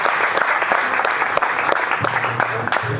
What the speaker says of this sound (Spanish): un fuerte aplauso a esta gente que se mata organizando esto